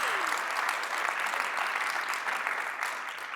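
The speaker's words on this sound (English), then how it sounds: "Round of applause for Paul," Audience applause at a tech conference session on trustworthy AI, a steady dense round of clapping from a crowd lasting throughout, fairly even in loudness and easing slightly near the end.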